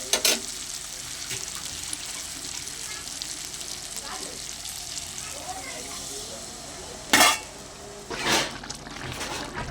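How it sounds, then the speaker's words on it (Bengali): Water is poured into a pan of well-fried eggplant and potato. A low background sizzle is broken by two sharp, loud hissing bursts near the end, and a voice is heard. "এবারে পরিমাণ মতো জল দিয়ে দেবো"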